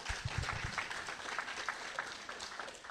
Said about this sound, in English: deserves a bigger hand of applause